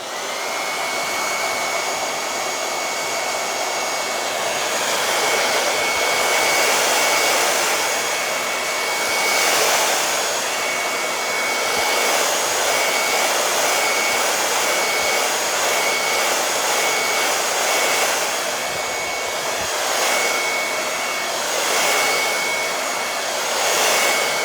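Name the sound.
hair dryer drying decoupage on silver tray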